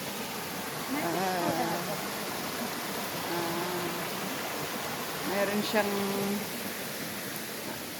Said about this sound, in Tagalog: batis batis pa lang tawag yan sa atin buhay buhay na tubig